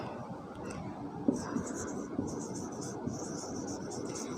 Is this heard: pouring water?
no